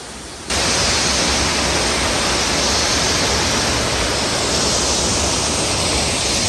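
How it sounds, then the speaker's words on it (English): A waterfall at Finca Sacmoc in Alta Verapaz, Guatemala, roars as a loud, steady, broadband rush of falling water that starts abruptly and holds unbroken throughout, with no voices. "the sound of the waterfall filling the space around you"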